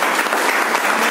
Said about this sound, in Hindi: सर एक बार जोरदार ताली बजा